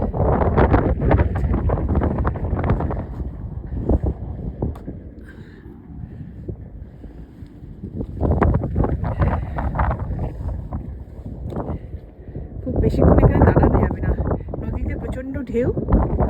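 Strong, cold night wind at Liberty State Park, by the river mouth where it meets the Atlantic, buffets the microphone in a loud, gusty roar that swells and eases throughout, with a voice speaking at times.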